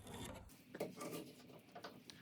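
A saw rasps through wood while a wooden chair part is cut off during a repair, giving short, faint, rough strokes at close range.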